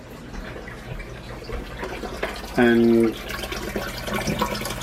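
Water running through a Python fish tank cleaner tube while refilling an aquarium: a brief, steady gush lasting about half a second, with a tonal hum, set against quieter trickling and low room noise.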